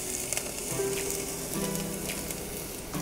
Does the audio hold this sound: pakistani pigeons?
no